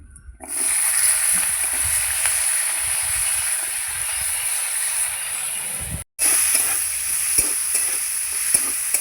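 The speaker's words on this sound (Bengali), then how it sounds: "সিমগুলো ভেজে নেব" Flat beans fry in hot oil in a wok with a loud, continuous crackling sizzle, briefly cut off once, then resuming with a few clinks of stirring nearby.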